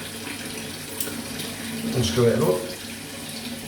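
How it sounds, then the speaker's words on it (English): Tap water runs into a bathroom sink, a steady broadband rush under someone talking, swelling briefly louder midway as the basin fills. "load the sink up with water."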